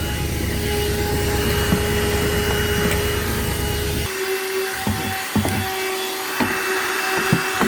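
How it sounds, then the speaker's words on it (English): Small hoover running steadily while cleaning the floor of an Aixam Mega microcar van, a continuous motor whine that drops in pitch partway through, with knocks and bumps as the nozzle moves around. "my little hoover and my brush. So next it's going to be time to clean the floor"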